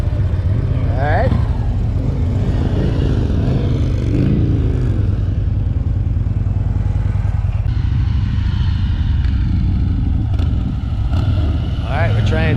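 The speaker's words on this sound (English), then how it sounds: "we're trying 2 bikes at one time" Two motorcycles riding together on a training run, a continuous loud engine drone with low rumbling and faint revving, close to the microphone, with people talking over it.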